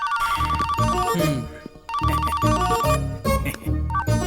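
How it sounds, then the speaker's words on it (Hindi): A phone ringtone plays a bright, repeating melodic pattern twice, loud and close, with a brief pause between the two phrases. "रिंगटोन भी मुझे उसकी टोन में सुनाई दे रहा है"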